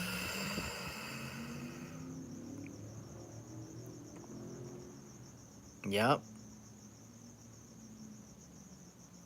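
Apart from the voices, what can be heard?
cricket chirping at night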